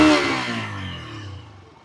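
A Bajaj Freedom 125 motorcycle running on petrol gives a single rev that falls steadily in pitch and loudness as the engine winds down. It sits close and alone, with no talk.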